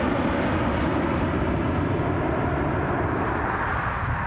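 Heavy airliner departing Newcastle International Airport, a broad continuous engine roar filling the clip at steady loudness, fairly near and alone.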